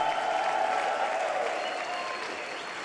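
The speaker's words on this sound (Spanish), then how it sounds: "Dele un aplauso, haga ruido ahora." A church congregation claps in sustained applause, a dense, even wash of many hands that holds steady, then slowly fades a little toward the end.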